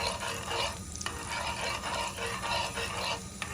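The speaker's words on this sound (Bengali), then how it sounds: "বাটার তাওয়ায় দেওয়ার পর আমি চামচ দিয়ে কিছুক্ষণ এটাকে নাড়াচাড়া করতে থাকি, যাতে বাটারটি ভালোভাবে মেল্ট হয়ে যায়" Butter melting on a tawa while a spoon stirs it, giving a quiet continuous sizzle with soft scraping strokes close by, and no talk.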